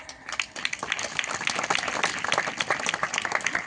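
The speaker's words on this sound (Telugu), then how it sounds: "అందరు చప్పట్లు పెట్టి దేవుని నామమున మహిమపరచండి." A church congregation in Nizampatnam claps together, with sharp individual hand claps standing out within a lively, fairly close round of applause that holds steady throughout.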